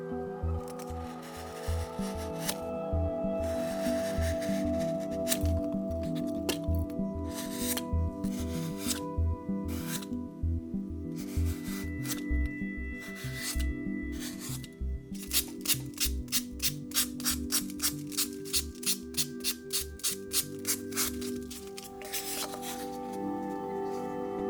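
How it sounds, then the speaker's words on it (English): An X-Acto knife cuts through 1-inch pink foam, giving a continuous scratchy, rasping rub with a rapid, regular sawing rhythm in the latter half and no talking. "using this 1-inch pink foam, I cut it out using a sharp X-Acto knife or a box cutter."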